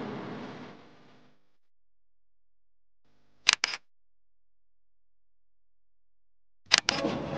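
Camera shutter clicks from a smartphone taking photos outdoors at a beer culture creative park by the Pearl River in Guangzhou: two quick double-click bursts a few seconds apart, crisp and close, after a fading stretch of ambient noise, with no talk.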